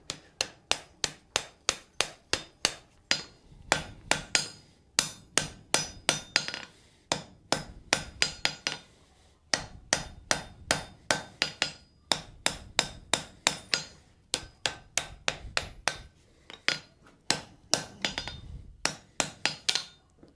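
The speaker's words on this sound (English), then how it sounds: "Weld it that way, weld it that way, weld it that way." Hammer blows on hot steel during a forge weld, a steady run of loud, ringing strikes in quick bursts with short pauses between groups, close and without talk.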